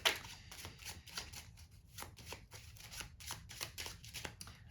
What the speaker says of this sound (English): You can then have the spectator shuffle the deck as much as they want.